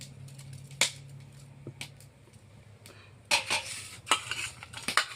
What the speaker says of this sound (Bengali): ওইটা একটু লবণ দিয়ে মাখাই মাছে